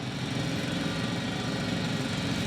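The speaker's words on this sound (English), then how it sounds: "It's a drill." A heavy drill runs in the sci-fi video game The Invincible, a continuous loud grinding mechanical drone that stays steady throughout with no voices.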